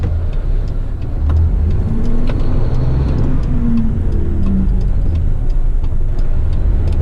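A truck drives along steadily, with a continuous close engine rumble and road noise throughout, the pitch wavering slightly as it moves and no talk.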